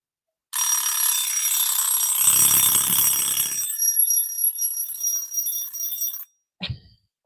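A 1960s travel alarm clock rings with a loud, bright metallic jangle for several seconds, then stops abruptly, followed by a few faint handling clicks.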